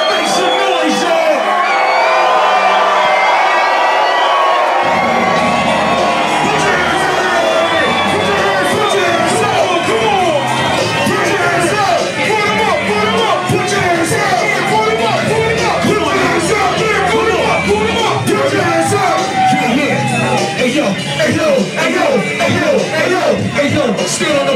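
Dense concert crowd at a show at The Lowbrow, roaring with cheers, whoops and shouted yells that swell and persist loudly throughout, with voices shouting over the sustained din.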